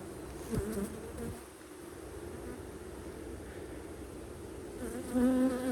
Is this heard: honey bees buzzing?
yes